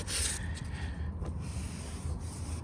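Rubbing down small rust spots on a car body, a steady close abrasive scrubbing and rasping that runs continuously without pause, with no talk.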